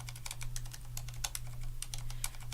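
A Corsair Strafe RGB keyboard with Cherry MX Silent switches is typed on close to the microphone, giving quick, soft, muted key clicks in an irregular steady flurry over a low constant hum.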